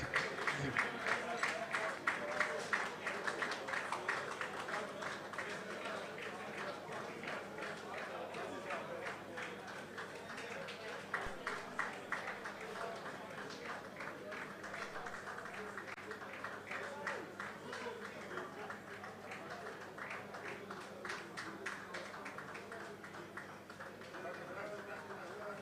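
Convention audience applauding steadily in a large hall, a dense wash of many hands clapping for a long stretch with voices mixed in.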